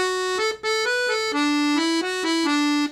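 A reedy 72-bass accordion plays a quick run of single notes in a lively Irish jig rhythm in E Dorian, stepping down in pitch through a short melodic phrase.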